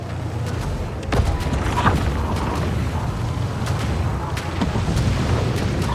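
Cannon fire in the space strategy game Homeworld 3, a steady low rumbling barrage with scattered booming hits and mechanical creaks over continuous background noise.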